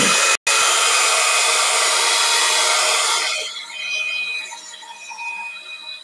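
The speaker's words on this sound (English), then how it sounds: "So I'm going to hit this with the heat gun real quick." A loud, steady blast of blowing air roars close by for about three seconds, then drops off, leaving a fainter whir with a brief high tone.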